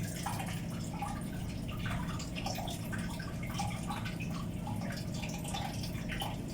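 Steady splashing and trickling of seawater pumped out of a boat's engine room, with drips and liquid gurgles over a low motor hum, close and continuous.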